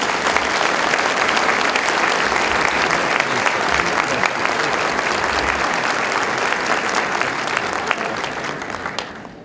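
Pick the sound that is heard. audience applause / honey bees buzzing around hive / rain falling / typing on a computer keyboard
audience applause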